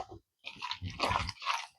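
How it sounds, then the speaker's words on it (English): Cottage cheese being stirred into a thick cornbread batter in a bowl, short wet squelching and sloshing strokes in quick bursts, quiet and close. "Let's stir it up."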